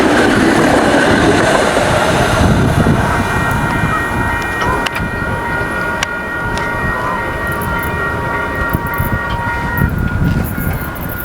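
A train rumbles past nearby in Canada, wheels clattering rhythmically over the rails with occasional metallic clicks and squeals, loud throughout.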